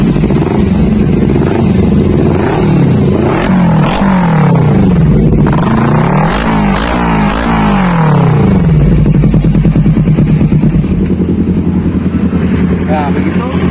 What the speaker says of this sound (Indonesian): Teman-teman juga bisa coba akselerasi sedikit, menggunakan gas ini, dia berebet atau enggak.